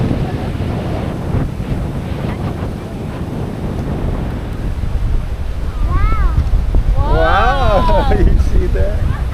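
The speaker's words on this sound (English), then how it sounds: "it's windy here a lot" Strong wind buffets a beach on Boracay's east side, a loud, rumbling gusty roar mixed with surf, with people talking over it.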